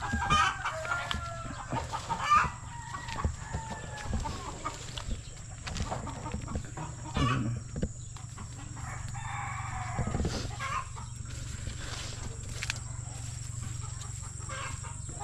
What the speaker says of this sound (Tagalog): Maingay yung manok kasi mangitlog siya.